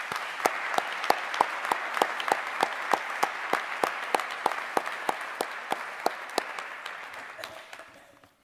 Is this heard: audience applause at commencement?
yes